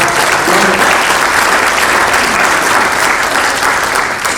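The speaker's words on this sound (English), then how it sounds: "Let's give them a round of applause." Loud, dense applause from a large audience at a real estate top producers event, a thick continuous roar of clapping held at an even level across the whole clip, with no talking.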